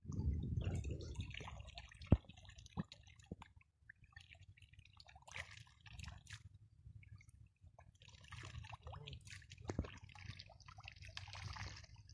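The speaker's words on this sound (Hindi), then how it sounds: "इस तरीके से सभी नालियों में पानी लगा दिया जाएगा" Irrigation water running and trickling into furrows of a field being prepared for chilli planting, with soft dripping and splashing spread across a steady low rumble outdoors.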